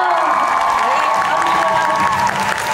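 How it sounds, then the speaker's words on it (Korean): Audience applause at a musical gala performance, a steady wash of clapping with some crowd noise and voices blended in, fairly loud and continuous for the short stretch. "박수 소리도 좀 작고."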